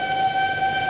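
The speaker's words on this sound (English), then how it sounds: "and the tornado siren" A tornado siren sounds during a North Texas storm, a steady sustained tone with bright harmonics holding level without pause over a constant rush of background noise.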